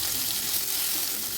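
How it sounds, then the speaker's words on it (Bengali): Fish sizzles loudly in hot oil in a kadai, a dense, steady, close crackling hiss with no voices. "আমার মাছ ভাজাগুলো হয়ে গেছে"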